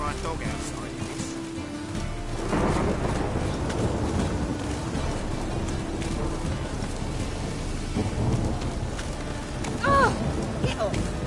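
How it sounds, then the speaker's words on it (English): Steady rain pours and low thunder rumbles continuously in The Witcher 3, with a brief voice and a few game sounds over the storm. "Rain again."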